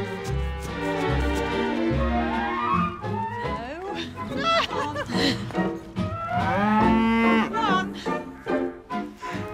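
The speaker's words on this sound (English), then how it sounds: "I've never seen cows come in like this into the garden." Cows that have wandered into a garden moo loudly and close by, with several long, drawn-out calls that rise and fall in pitch and sometimes overlap.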